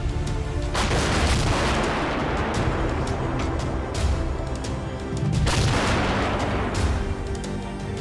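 Heavy 155mm PzH 2000 self-propelled howitzer fire in a combat zone, with dense, continuous booming blasts and rumbling echoes filling the whole stretch and surging louder in two broad waves, no talk.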